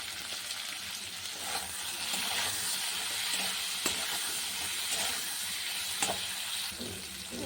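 Vegetables with salt and turmeric fry in a pan, a continuous hissing sizzle with occasional clicks of stirring, close and fairly quiet.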